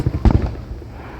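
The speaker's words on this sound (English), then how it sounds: "Big canister shells." Big canister firework shells bursting at a Fourth of July show, a rapid cluster of deep booms and crackling pops, loud with rolling echo, fading into a rumbling tail.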